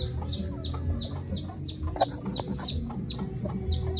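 A newly arrived Darag native hen clucks in a steady run of repeated, descending calls, close and clear over a low background hum, with no voices.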